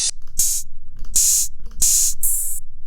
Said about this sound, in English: I'm gonna add open hi-hats